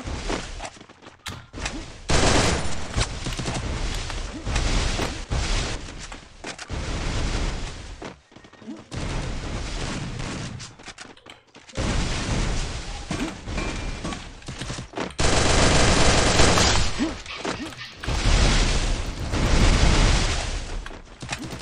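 Gunfire in the mobile battle royale game Free Fire, dense loud volleys of shots in several long bursts with brief quiet gaps, along with game effects and occasional voices.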